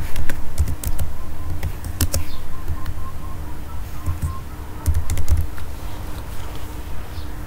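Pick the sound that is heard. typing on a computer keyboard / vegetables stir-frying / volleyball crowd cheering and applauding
typing on a computer keyboard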